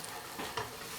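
Spoon stirring red chili powder, turmeric, salt and garam masala in a hot pan for a chicken and spinach curry, with a soft sizzle and a couple of brief scraping strokes, quiet and close.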